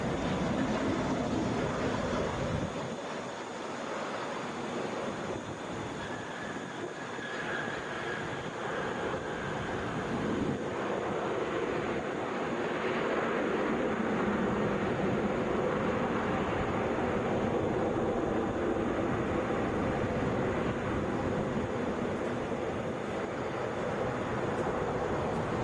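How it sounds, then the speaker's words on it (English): A Delta Boeing 767 heavy airliner at Atlanta airport, a broad roaring jet rumble heard from a distance that swells and fades gradually over about 25 seconds, with no voices. "That is Delta Flight 324 going to San Francisco. That is a Boeing 767, which I believe counts as a heavy."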